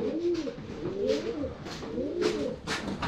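Pigeons coo in soft, repeated rolling phrases, close by and steady, kept among a large flock of racing pigeons with no talk over them.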